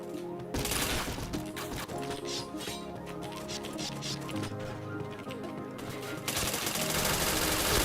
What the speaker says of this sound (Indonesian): Lihat dia langsung tembak deh.